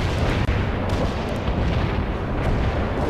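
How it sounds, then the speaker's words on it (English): Bomb strike explosions in the war game World in Conflict, a dense continuous roar of rumbling blasts and booms, loud and sustained with no talk. "Same bomb strike inbound"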